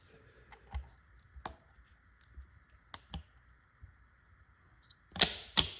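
A Byrna LE less-lethal launcher fires a magazine of seven rounds. The shots are sharp, separate pops, about a second apart, near and moderately loud, against a quiet steady hum, and two louder cracks close the run.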